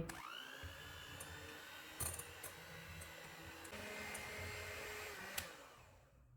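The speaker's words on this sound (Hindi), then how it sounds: "इसको 1 मिनट तक बीट करेंगे।" A handheld electric beater whirs steadily as it beats hot churros dough in a bowl, the motor pitch dipping and rising slightly as the thick mixture loads it, with faint clicks of the beaters against the bowl.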